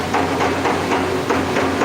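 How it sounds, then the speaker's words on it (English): A hammer knocks boards along in a factory, giving a steady series of sharp, evenly spaced knocks over a constant low machine hum. "use the hammer to move the boards here"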